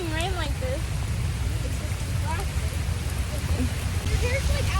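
Heavy rain pours steadily across Central Park in New York, a dense constant wash close around the listener, with faint whistling or chirping tones drifting through and no talk.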